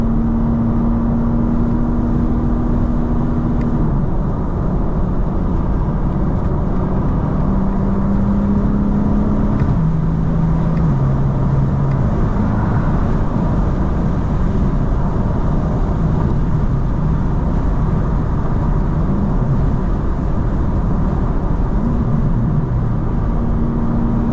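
A 2025 BMW M4 CS engine roars continuously up close, its pitch climbing and dropping in steps as it accelerates through gears.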